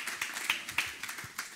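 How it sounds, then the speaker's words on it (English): Sparse, scattered clapping from a small church audience, a handful of distinct hand claps at uneven intervals rather than full applause, fairly close and fading quickly. "let's give these guys a huge round of applause to welcome this morning."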